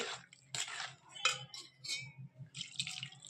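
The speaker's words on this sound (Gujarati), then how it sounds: "પાણી નાખી જશું અને હલાવતા જશું" Soft wet sloshing and clinking of a spoon against a bowl as malpua batter is stirred with water, quiet and close, in irregular strokes.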